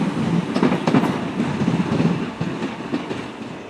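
Train at Barnham station: a continuous, loud rumble of rail wagons rolling close by with faint clickety-clack over the rails, steady throughout without talk.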